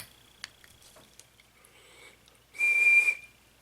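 A short, sharp whistle of air drawn through a wide-open 30mm Prophet RDA vape atomizer, lasting about half a second after a few faint ticks and clicks, close and fairly loud.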